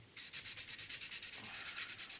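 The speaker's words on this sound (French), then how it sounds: "Là on prend le 600, j'y vais directement au 600. Et on va poncer pour rattraper ce défaut" A 1/24 Revell Ferrari California model car body being sanded with 600-grit sandpaper to fix a defect, about fifteen quick, even rasping strokes close up, no voices.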